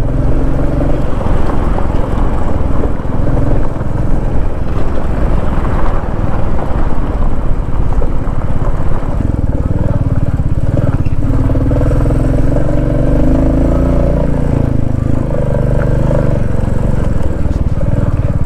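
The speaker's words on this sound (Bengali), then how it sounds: "জাস্ট ইঞ্জিন ব্রেকে আমি নামছি এখন।" A motorcycle descends a rough, broken road on engine braking, its loud, continuous engine drone close and rattling throughout, with no talk.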